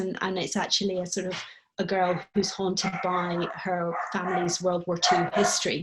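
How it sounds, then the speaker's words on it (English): A dog barks excitedly in the background of an indoor conversation, yips and barks scattered under someone speaking continuously in the foreground. "that's my dog going crazy"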